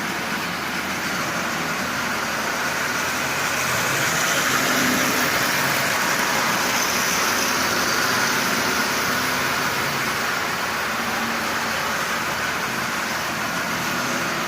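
A Marx 490 model train locomotive with a rebuilt double reduction motor and bypassed E-unit runs at half power. It makes a steady, fairly loud mechanical whir and rumble that holds evenly throughout, with no speech.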